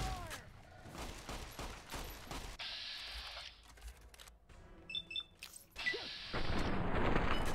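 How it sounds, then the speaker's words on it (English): Caravan shotgun blasts in Fallout New Vegas, a run of sharp evenly spaced reports early on, then quieter game sounds and a later loud burst. "Caravan shotgun."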